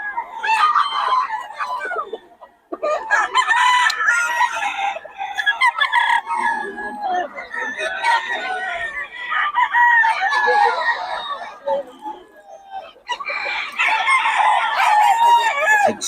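Bull stag gamecock crowing repeatedly in long drawn-out calls, close and loud, with other fowl and a crowd bustling around it in a busy early-morning cockfighting market.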